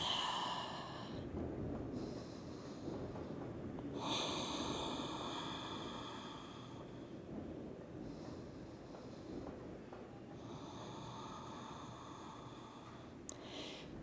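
Slow, deep yoga breaths during a morning routine, heard close and quiet: several long inhales and exhales in an even rhythm, separated by short pauses.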